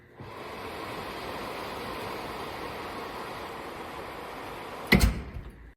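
A LEOKV 36-inch air curtain running over a shop door, a steady, soft broadband whoosh of blown air that holds evenly, ending in a short loud knock near the close.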